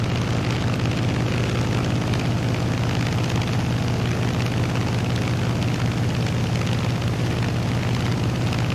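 Grumman F6F Hellcat piston engine in a flight simulator, a loud, steady propeller drone with a deep rumbling hum that holds unchanged throughout in cruising flight.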